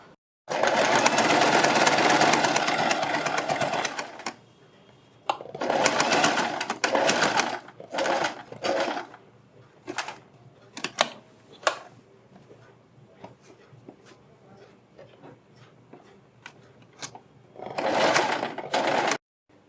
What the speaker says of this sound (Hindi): पलटकर प्रेस करने के बाद हम सबसे पहले यहाँ पर इसके किनारे पर एक सिलाई लगाएंगे।